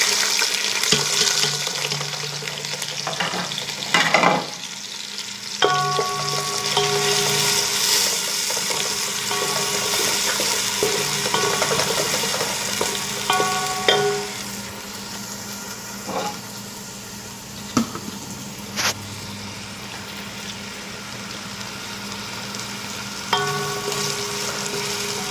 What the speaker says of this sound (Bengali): এবার আমি দেব সমস্ত পেঁয়াজ কুচি, আপনার ক্যাপসিকাম কুচি, আদা কুচি, রসুন কুচি। আমি এবার তেলে ঢেলে দেব।